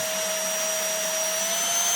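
An Iirios cordless vacuum cleaner (550W, 45kPa) runs on its high setting, giving a steady, close, loud motor whine with a sharp high tone that holds unbroken throughout, with no voices.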